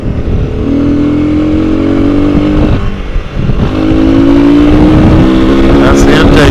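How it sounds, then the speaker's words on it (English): Honda CRF300L motorcycle fitted with a performance ECU, its intake roaring up close as a loud, steady engine drone that climbs in pitch, dips briefly midway, then rises again. "That's the intake noise right there."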